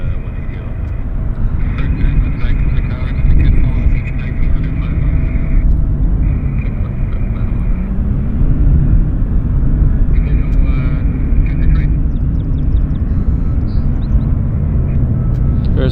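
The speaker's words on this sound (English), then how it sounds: "There's the WestJet." A WestJet airliner at Vancouver Airport's north side gates gives a steady, broad engine roar and rumble across the whole stretch, with faint radio-like chatter above it.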